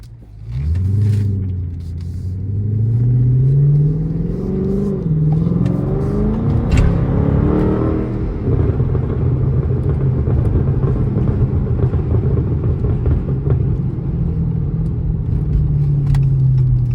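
A Chrysler 300 SRT rumbles steadily through city streets, its engine rising in a revving surge early on, then holding a loud, continuous low drone while driving, with no talking.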